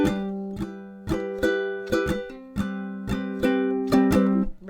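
Ukulele plays bars 43 through 46 of a song with crisp, evenly spaced strummed chords and short muted chops, a steady rhythmic pattern close up with no voice over it.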